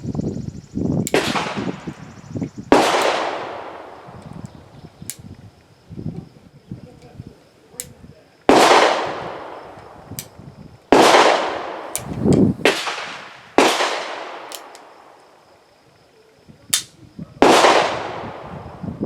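A Heritage Rough Rider single-action revolver with a 6.5-inch barrel fires about seven loud, sharp reports at irregular intervals. Each shot rings out and fades with a short echo, with quiet handling noises between shots.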